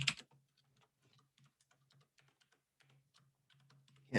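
Quiet, close typing on a computer keyboard: a run of light, irregular key clicks and taps, with a couple of louder knocks at the start and end.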